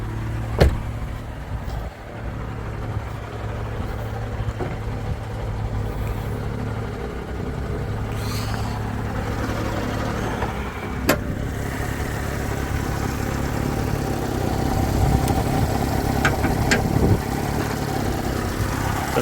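A used car's engine idles steadily and fairly loud with a rattly, uneven note, occasional sharp clicks and knocks breaking through the continuous running drone.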